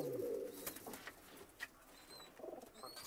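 Pigeons coo softly in a pigeon loft, low throaty calls coming in short bursts at a moderate distance, with faint chirps and light rustling between them.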